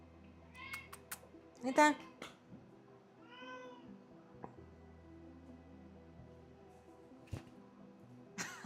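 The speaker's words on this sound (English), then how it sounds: "The cat's gone crazy." A cat meows a few times indoors, short harmonic cries rising out of a quiet room, with a person talking nearby.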